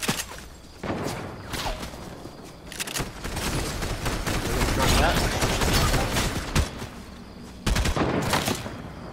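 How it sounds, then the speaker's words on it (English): Gunfire in a Fortnite battle royale match, a loud, dense stretch of shots and sharp reports, with snipers shooting at the players, heard over continuous game noise with no clear pauses. "Oh, wait, we're getting sniped at."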